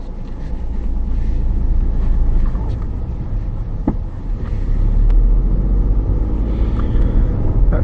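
A car drives along a road on a driving test route in Chertsey, its engine and tyre rumble steady and fairly loud throughout, with no talk.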